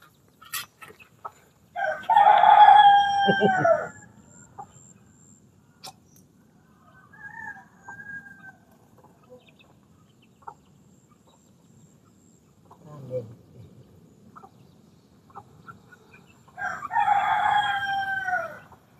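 A rooster crows loudly and close by in a village yard, with a long crow near the start and another near the end, separated by quieter clucks and soft rustling.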